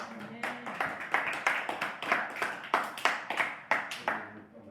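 A church congregation claps in a steady, fairly quick rhythm of sharp, bright hand claps in praise, about a dozen even beats over a few seconds, close and loud, with no talking over them.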